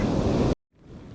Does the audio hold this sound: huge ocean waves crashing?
yes